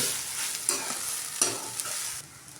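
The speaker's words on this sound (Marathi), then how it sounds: "शाबू चांगले परतून घ्यायचे" Sago pearls (sabudana) are sautéed in a pan, giving a brief, close stirring scrape over a steady hiss of sizzling.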